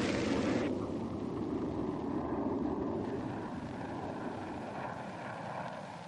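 An A-6 Intruder attack aircraft roars past as a broad, steady jet rumble, loud and sustained with no voices, fading slightly toward the end.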